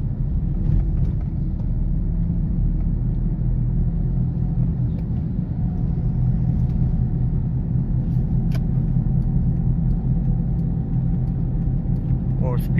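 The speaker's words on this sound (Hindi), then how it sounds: "मैं लो RPM पे गाड़ी चलाता हूँ।" An LPG-fuelled car engine drives at low RPM, around 1100 at 40 speed, giving a steady, continuous low rumble with faint road noise throughout and no clear revving.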